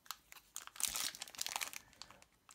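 A LEGO Ninjago trading card booster pack is torn open, probably with scissors nearby, giving bursts of close, crisp foil crinkling and crunching that grow louder in the middle and then taper into lighter rustles. No one speaks.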